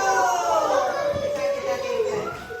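A high, wavering voice glides up and down in a drawn-out whine, imitating a cat's meow.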